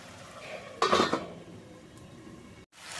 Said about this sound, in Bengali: এই সব কিছু দিয়ে আমি আবারও ঢাকা দিয়ে দেব।